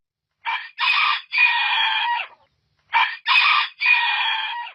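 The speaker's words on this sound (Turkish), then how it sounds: "Ekmelettin diye öten horoz görenleri hayrete düşürdü" A rooster crows twice in a row, each crow a loud, hoarse multi-part call, with a short pause between them and no other sounds.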